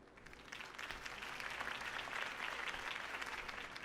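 Steady crowd applause in the video game Batman: The Telltale Series, dense clapping that swells slightly and holds throughout.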